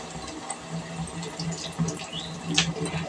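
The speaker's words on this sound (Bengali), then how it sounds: "তো হাতটা ধুয়ে নিই তারপরে।" Running tap water splashes briefly as hands are washed beneath it, a close, even wash of water with small knocks and splashes.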